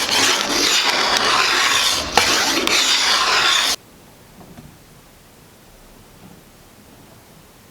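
A draw knife shaves wood off a black locust bow in a loud, continuous rasping scrape lasting a few seconds, broken by one short catch, then stops and leaves quiet room tone.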